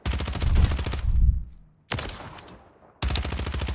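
A new SMG in Warzone fires in rapid, dense bursts, loud and close, with three separate sprays split by short gaps of near silence.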